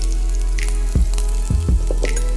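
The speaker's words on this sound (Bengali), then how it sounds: "এটাকে হালকা একটু ভেজে নিব।" Chopped garlic fries in hot mustard oil in a home kitchen, giving a steady loud sizzle throughout, with a few brief clinks and stirring knocks of a utensil against the pan.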